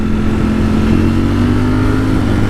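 A Ducati Streetfighter V4S motorcycle engine runs loud and close, a steady throbbing drone with strong low harmonics held at high revs throughout.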